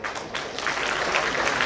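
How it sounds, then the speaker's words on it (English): Applause at a sports club's centenary celebration: a steady, moderately loud crowd clap that swells slightly and holds for under two seconds, without audible speech. "I request you to give them a big round of applause."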